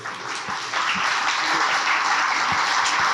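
Audience clapping at a church gathering, a steady broadband wash of applause that swells after the first moment and holds loud and even, with scattered low thumps underneath and no speech.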